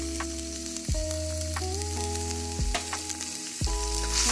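Ground beef browning in a pan with a seasoning mix stirred in, a steady close sizzle broken by several scraping stirs and clinks of the spatula against the pan.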